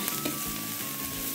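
Potatoes sautéing in oil in a pan, a close, steady sizzle with a faint hum and a couple of soft stirring scrapes over a brief moment.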